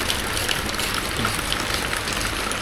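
Heavy rain pours steadily on a rural hillside home, a dense continuous hiss with no breaks, close and fairly loud throughout.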